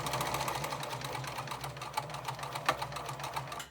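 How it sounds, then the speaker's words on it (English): A sewing machine stitches bag fabric in a fast, even mechanical rattle of needle strokes, close and continuous for a few seconds with no talk. "So bring the end of your stitching right up into the actual casing."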